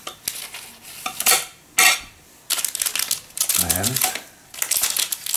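Plastic wrapper on a Prestige Naya strawberry ice cream flavour sponge cake being torn open up close, with sharp crinkling bursts and rustles between brief bits of speech.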